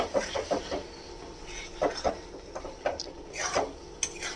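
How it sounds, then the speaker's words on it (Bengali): Fried eggplant with chilli powder and curry leaves stirred in an open pan, a string of close spoon scrapes and clinks against the pan over a faint background, no voices. "এবারে এটাকে খোলা অবস্থায় খুব ভালো করে কষাবো"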